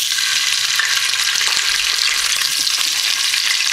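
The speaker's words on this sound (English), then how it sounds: "Okay, so first I want to add the peppers." Peppers fry in a pot of hot oil with a steady, dense sizzle and crackle. A few faint stirring knocks sound near the middle, and no one speaks.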